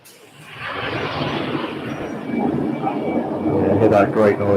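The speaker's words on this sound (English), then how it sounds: "hear that great noise of the reverse thrust kicking in there" An ATR turboprop roars with reverse thrust on its landing run, a broad engine rush that swells louder toward the end while a person talks over it.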